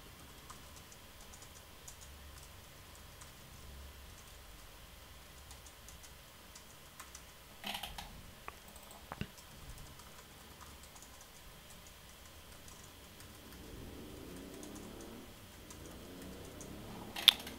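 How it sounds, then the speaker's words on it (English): Someone types on a computer keyboard, the keystrokes faint and sparse in short irregular bursts, with a few louder clacks standing out against a quiet room hum. "You watch me type."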